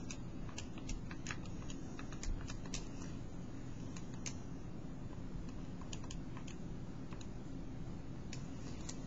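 Keys tapped on a calculator keypad while entering a probability calculation: quick, irregular clicks in short runs over a steady background hum, with no talking.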